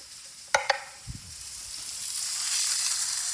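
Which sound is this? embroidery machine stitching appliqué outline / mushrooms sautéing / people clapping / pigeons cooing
mushrooms sautéing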